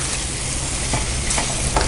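Egg stirred into pepper masala in a hot pan, a dense frying sizzle with a few soft scraping strokes of the spoon, close and steady.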